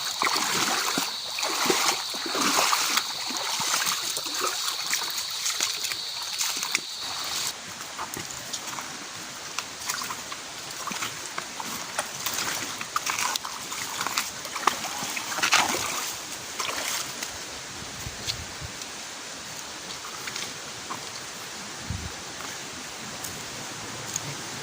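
Water splashing and rushing at Liman Falls, a waterfall in Bulan, Sorsogon, forms a steady, broad wash close by, with scattered sharper splashes and no talk.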